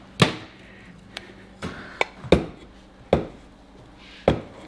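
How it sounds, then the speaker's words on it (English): A knife cuts off an old valve stem on a greens aerator with a handful of sharp, close chopping strikes spaced irregularly, plus a few lighter clicks, without any talk. "So I'm just using this knife, cutting that off just like that."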